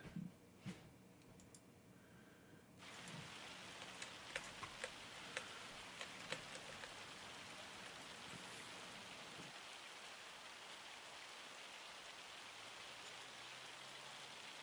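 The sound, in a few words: rain in the video game Farming Simulator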